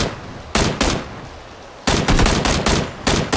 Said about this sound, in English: I heard other gunshots, so I don't know where he's at.